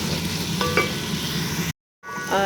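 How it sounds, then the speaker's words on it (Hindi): Onions frying in hot oil in a pan, a steady close hiss with faint scraping of stirring. The sizzle cuts out for a moment and then comes back at the same level, with no talk over it. "इसको मैंने ऑयल में डालकर और ये मैं फ्राई कर रही हूँ"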